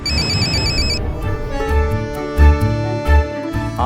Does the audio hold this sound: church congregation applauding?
no